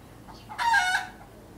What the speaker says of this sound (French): observons complètement le son de la vibration de ce son de poule